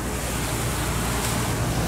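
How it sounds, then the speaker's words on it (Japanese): A Venice water taxi runs through a narrow canal, water splashing and rushing steadily against the hull over a constant engine and wind roar, close and continuous. "狭い道になってきて結構水が跳ねますけど、"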